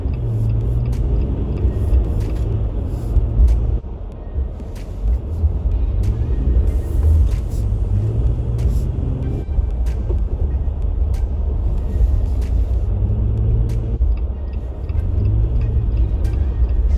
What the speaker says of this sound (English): when I try to drift around a corner, it won't actually let me drift